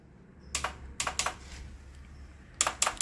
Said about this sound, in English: And we've got that clicking.